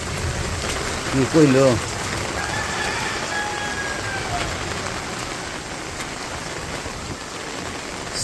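A heavy downpour over a village rooftop makes a constant, full wash of rain noise, with a man's short remark heard early on.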